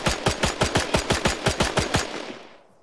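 Rapid automatic gunfire in a World War II video game, a steady burst of about sixteen evenly spaced loud shots lasting two seconds before fading out.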